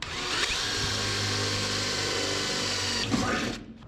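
A power drill boring a 1/4 inch hole in powder-coated aluminum 3/16 to 1/4 inch thick, with a steady loud whine. It runs close and alone for nearly four seconds, then winds down.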